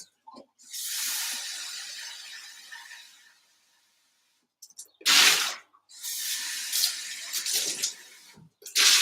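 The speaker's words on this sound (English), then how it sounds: "let me just rinse out a couple of these jugs" Water gushes into and out of plastic jugs as they are rinsed, two bursts of hissing, splashing flow separated by a pause, close and fairly loud, with brief sloshing knocks at the end.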